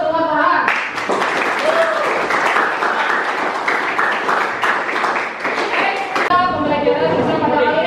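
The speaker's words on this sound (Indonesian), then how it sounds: "kasih aplaus untuk Farhan" An audience in an Islamic studies class applauds Farhan with steady, crowded clapping mixed with chatter for several seconds, after which a voice takes over.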